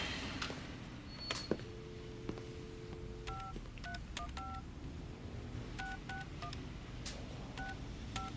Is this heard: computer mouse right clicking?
no